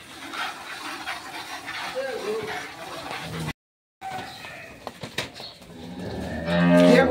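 Dairy cows with newborn calves low loudly on a cattle farm, the mooing rising close and strong near the end after people talk over general barn noise and a brief silence.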